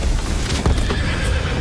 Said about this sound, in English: Oh damn, not the horse.